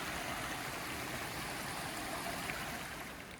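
A stream along the Appalachian Trail cascades close by, giving a steady, full rushing of water with no other sound over it.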